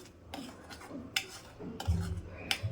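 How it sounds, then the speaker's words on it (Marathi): Palak paneer curry is stirred in a pan, with quiet scrapes and clinks of a spoon against the metal and a soft wet thud or two, close and faint. "आता बघा एकदा छान मिक्स करून घेते"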